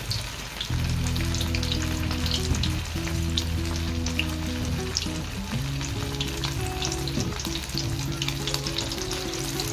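Coated chicken lollipops deep-frying in hot oil for a homemade recipe, giving a loud, steady sizzle and bubbling that runs throughout with occasional stirring clatter and no voices.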